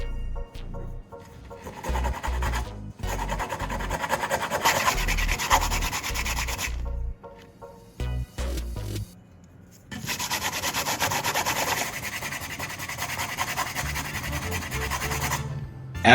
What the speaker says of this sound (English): take some sandpaper or a file and smooth out the edges of the cut section